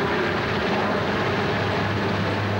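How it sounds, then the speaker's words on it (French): A Super Puma AS-332C1 helicopter flies nearby, giving off a steady, loud, unbroken drone of rotor and engine noise throughout. "L'hélicoptère engagé sur les opérations porte le nom barbare"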